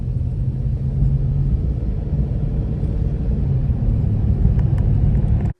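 Mercedes E55 AMG rumbling along a street, a low steady engine drone heard from inside the car that cuts off sharply at the end.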